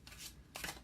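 Tarot cards are shuffled and drawn close by, two quick soft riffling bursts with a short pause between them, faint and alone.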